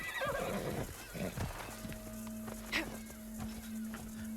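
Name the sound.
horse neighing in video game Assassin's Creed Shadows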